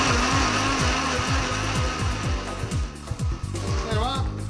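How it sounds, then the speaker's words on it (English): A blender whirs steadily, blending papaya with vanilla ice cream and milk, its motor pulsing in a regular chopping rhythm, loud and close, with a brief strain and shift in pitch near the end. "Just stick it in the blender."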